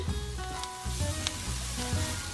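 Peppers and onions frying in a pan with a few dashes of Worcestershire sauce, giving a steady close sizzle with faint crackles and occasional stirring.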